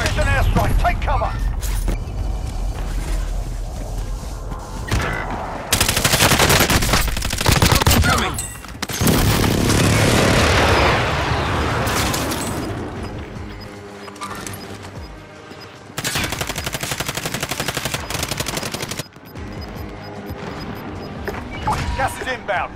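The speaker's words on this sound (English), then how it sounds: "An airstrike. Take cover." Airstrike explosions and bursts of automatic gunfire in Call of Duty Warzone on Rebirth Island, loud heavy booms mixed with rapid rattling shots in repeated waves, with game voice callouts over the top.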